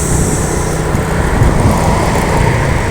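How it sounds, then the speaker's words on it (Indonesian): A bus rolls past on a road near a roadside restaurant, a steady broadband rumble of engine and tyre noise mixed with surrounding traffic, fairly loud and without any talking. "Nah ini ada lagi bus melintas"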